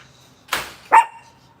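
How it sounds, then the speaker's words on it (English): Two sharp dog barks sound close by, the second higher and ending in a brief whine, with quiet room ambience around them. "You don't need to bark."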